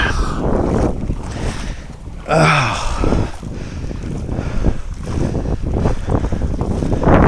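Strong wind buffeting a microphone outdoors at a waterside fishing spot, rumbling and gusting continuously with a sharp loud blast partway through, no voices.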